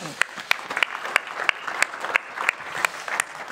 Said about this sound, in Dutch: Geef ze een warm applaus.